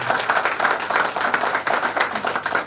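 A crowd of former classmates at a tenth-class school reunion claps for their teachers, a dense, steady, fairly loud wash of applause with no talking over it.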